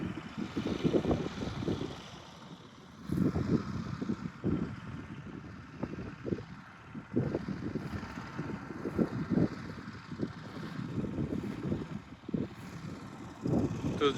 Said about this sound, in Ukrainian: Зараз ще трактором пройду